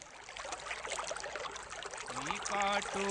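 The Pokhrad gadhera, a mountain stream, gives a constant trickling, pouring rush. In the last second a voice begins singing over the water, so the flow is partly masked by melodic tones.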